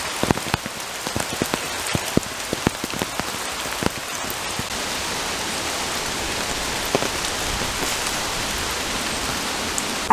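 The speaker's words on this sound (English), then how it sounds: "apparently we will get rain on." Steady rain falls on an outdoor landscape garden estate, a dense continuous patter with sharp individual drops standing out near the start, loud and unbroken throughout with no voices.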